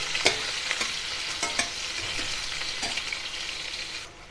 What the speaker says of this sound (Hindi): अब हम प्याज भी डाल, देखिए हमने प्याज भी डाल दिया, और इसको हल्का गुलाबी होने तक भून लेंगे